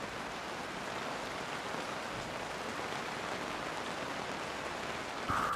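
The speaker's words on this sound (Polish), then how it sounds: "Zaczęło padać. To jest pierwszy taki naprawdę taki pierwszy deszcz." Steady rain falls outdoors in a constant even hiss, a first real downpour on a hitchhiking trip eastward, with a brief brighter noise at the very end.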